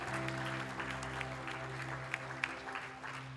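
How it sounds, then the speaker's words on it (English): A church congregation claps in praise of the Lord, giving sustained, dense applause that fills the room with a few louder individual claps toward the end. A steady low musical hum runs beneath it. "can we give the Lord one more clap of praise?"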